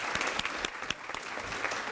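A crowd at a women's leadership awards event in Harford County applauds the nominees with continuous, dense clapping, fairly faint and steady throughout.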